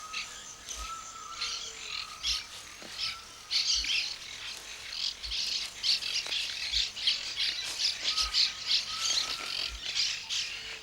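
Monk parakeets squawk around a jabiru nest in a flooded wilderness, a dense, continuous chatter of harsh calls from many birds at close range, with no voices.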